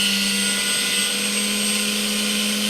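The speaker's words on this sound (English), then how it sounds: "Into the orbital sander now, so this one, if you wanted to, you can go over the box a little bit" An orbital sander works over a wooden box, giving a loud, steady, unbroken whirring drone with no pauses and no voices.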